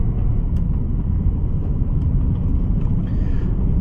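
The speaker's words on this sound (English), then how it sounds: "As I press the gas, you can just hear the engine so loud in the background." A Range Rover Sport's engine rumbles steadily from inside the cabin while driving on a main road, a loud continuous low drone with road noise and no speech.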